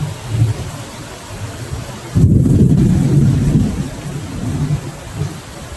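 A Kalbaishakhi storm rages outside, with rain hissing steadily and wind buffeting the microphone, while a heavy rumble of thunder rolls in loudly about two seconds in and slowly fades under the downpour.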